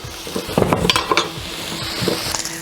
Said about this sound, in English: Now let's bring our big chunks of the smoky streaky bacon into the pan.